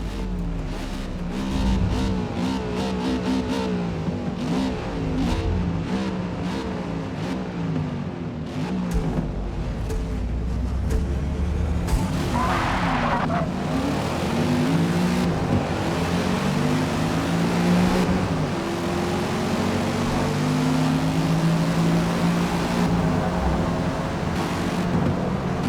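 A Mustang GT V8 race car in Forza Motorsport roars and revs loudly and continuously, engine tone rising and falling through gear changes, with crashes and scraping bursts partway through and no talk.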